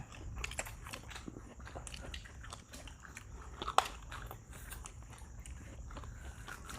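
Close, crisp crunching bites into crunchy chicken wings during a mukbang meal, with chewing between the bites and one sharp crack standing out.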